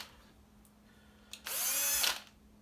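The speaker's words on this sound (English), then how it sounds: "Drill through." A power drill with a 9/16 bit bores through a plastic magazine part to make a paracord hole, whining loudly and steadily for about half a second after a brief false start, then spinning down.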